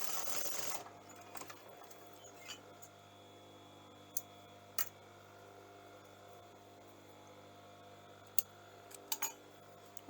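A sewing machine back-tacks a seam on fabric while making a shirred top, giving a steady close mechanical hum with a few light clicks after a louder burst at the start.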